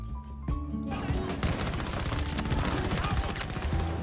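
Rapid bursts of gunfire from a player shooting at opponents in a first-person shooter game, with dense, continuous rattling shots layered over steady game background noise.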